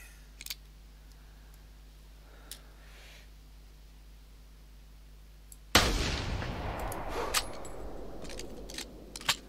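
In theHunter 2019, a single hunting rifle shot at a roe deer cracks out sharply after several seconds of quiet ambience, its report rolling off in a fading echo with a few faint clicks afterward.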